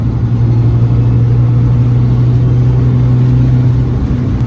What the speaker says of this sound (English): I do love the sound of my car, so you know, revving it up a little bit